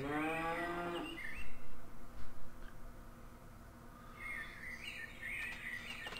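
A cow moos once at the start of the video game Industry Giant 2, followed by a few soft thumps and light bird chirps in a simple game soundscape, with no talking.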